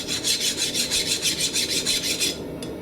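A hand file rasps across the unhardened steel blade of a large kitchen knife in about a dozen steady, even strokes, close and fairly loud, ending in a brief pause.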